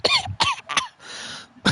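A person coughs several times in close succession, harsh bursts up close with a brief hoarse rasp between, all loud and near with no speech.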